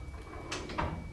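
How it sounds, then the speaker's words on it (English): The tailgate of a K5 Blazer slides down and is lowered, giving two or three soft scraping slides close by against a low background hum. "hopefully noise-free slide until it actually grabs, and then I'll drop this tailgate"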